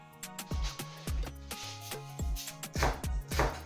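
A knife chops red onions and spring onions on a board with regular, close strikes about twice a second, each a sharp knock with a short ring.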